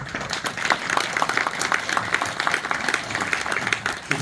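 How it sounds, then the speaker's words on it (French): Audience applause at a ceremony, steady crowded clapping with scattered sharper claps throughout, moderately loud and continuous. "très sensible à vos applaudissements"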